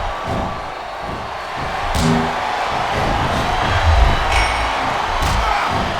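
Arena crowd in the wrestling video game SmackDown vs Raw 2007 cheering and whooping in a continuous roar, with a few sharp slams and thuds breaking through the noise.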